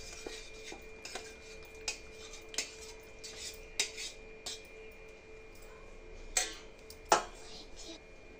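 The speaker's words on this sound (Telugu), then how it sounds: "ఇప్పుడు ఇవన్నీ బాగా మిక్స్ చేసుకోవాలండి ఈ కస్టర్డ్లో" A spoon stirs sabja seeds and jelly into custard in a bowl, giving a series of light metallic clinks and taps at an uneven, unhurried rhythm over a faint steady hum.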